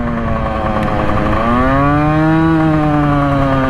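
A Husqvarna SM125 two-stroke supermoto engine idles with a steady lawnmower-like buzzing drone, its pitch rising briefly as the throttle is blipped, loud and close with no talking.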